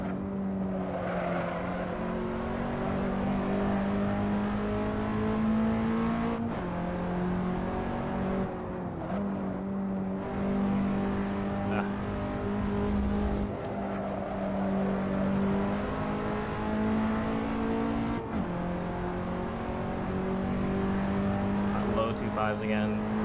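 Simulated car engine in a racing video game at Roebling, revving steadily with pitch climbing and dropping through gear changes, someone talking over it throughout.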